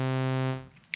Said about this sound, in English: And now all we'll hear is the sawtooth.